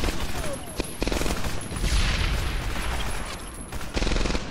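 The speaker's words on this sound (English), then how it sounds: "Right, maybe I'm gonna try the grenade on the castle." Rapid bursts of gunfire crackle through a battle in the game Medal of Honor Airborne, dense and continuous with a heavier blast partway through.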